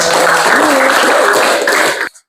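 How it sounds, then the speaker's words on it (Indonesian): A close, loud burst of audience applause at an Indonesian pesantren religious study session, continuous clapping of many hands that stops abruptly after about two seconds. "Kasih tepuk tangan."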